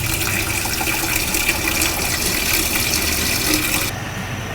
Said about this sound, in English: Now beans I like to cover with just about 2 inches or so of water.